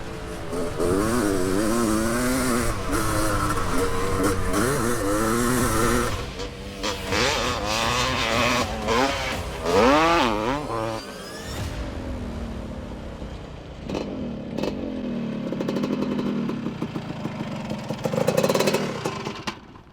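A 47-year-old two-stroke motorcycle ridden hard off-road, its engine loud and close, revving up and down through the gears with a buzzing, rising-and-falling whine before easing off toward the end.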